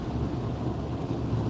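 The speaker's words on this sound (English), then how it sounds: "I see it's raining some more." Rain heard from inside a car while driving in the San Gabriel Valley, a dense low rumbling wash of road and rain noise, steady and close, with no talking.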